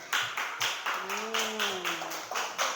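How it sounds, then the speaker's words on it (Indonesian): A classroom of students claps for a student group in a steady rhythmic beat, about two claps per second in a loud, even pattern, with a brief tonal voice sound sustained in the middle. "Tepuk tangan untuk kelompok."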